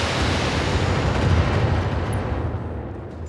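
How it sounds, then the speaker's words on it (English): Missile barrage impacts in the video game Battletech land as a dense, continuous roar of loud rumbling explosions, sustained for several seconds and tapering slightly at the end, with no talk. "just drop the missiles on him"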